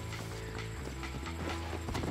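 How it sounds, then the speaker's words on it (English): Horse hooves clip-clop at a steady walking rhythm in Red Dead Redemption, close and fairly loud, with a faint whinny and no talking over them. "So, let's get on our horse."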